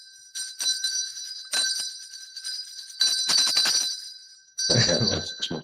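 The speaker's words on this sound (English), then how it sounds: "That's my spirit bell." A handheld spirit bell rings in several bright bursts, each fading quickly, with short gaps between them. A voice speaks briefly toward the end.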